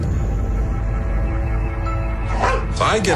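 A dog barks and yips in short bursts near the end, over a low rumbling background that fills the clip.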